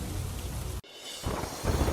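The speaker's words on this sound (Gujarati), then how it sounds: "જસદણ પંથકમાં ધોધમાર વરસાદ." Heavy monsoon rain pours down in the Jasdan area, a dense, steady hiss of water with a sharp cut near the middle before the downpour resumes, loud and close.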